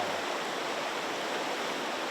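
A big river flows with a steady, dense rushing hiss, constant and fairly loud throughout with no voices.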